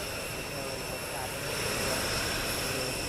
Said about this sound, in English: I apologize if the engines are too loud.